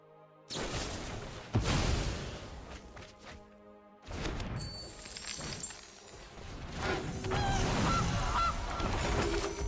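In a Magic card video game, a goose honks loudly amid dense, noisy game effects with thumps and crashes that build and continue for several seconds, without speech.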